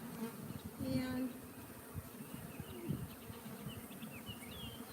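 Honey bees buzz in a dense, continuous drone around an open hive at an apiary, with a few louder bees passing close by over the swarm's steady hum.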